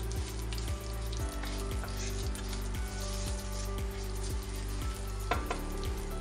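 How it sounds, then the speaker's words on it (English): Steady crackling sizzle of mustard seeds frying in hot oil, close and constant, with faint popping and a low hum underneath. "That's a very hearty sizzle."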